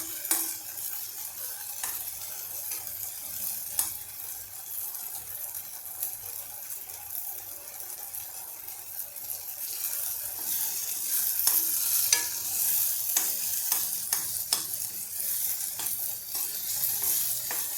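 Red chutney of dried desi and Kashmiri red chillies being stirred in oil in a pan, with a steady soft sizzle and occasional scraping clicks of the spoon throughout, no talking.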